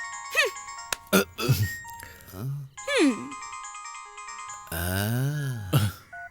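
A mobile phone ringtone for an incoming call in a home scene of a dubbed Hindi romantic action film plays as a bright, repeating melodic tune in several bursts, with brief speech-like sounds between them.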